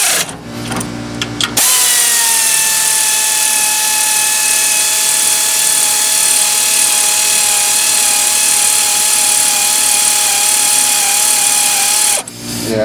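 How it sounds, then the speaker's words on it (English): A compressed air nozzle blasts loudly and steadily into the bolt holes of a Craftsman LT11 lawn tractor engine for about ten seconds, a hissing whine with a tonal edge, after brief handling noises and ending abruptly. "I tried to clean out those bolt holes with air."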